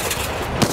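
Gunfire in the video game Enlisted, a dense noisy burst of shots with one sharper crack near the end, moderately loud, with no talk.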